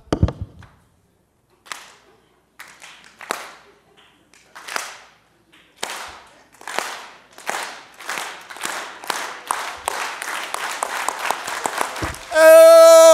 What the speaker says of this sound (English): You guys know a slow clap?